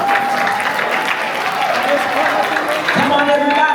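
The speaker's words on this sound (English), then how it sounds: "Come on, everybody, keep clapping your hands." Audience applause at a gospel concert celebrating a 65th birthday in Durham, North Carolina: steady, dense clapping from a crowd, loud and continuous throughout.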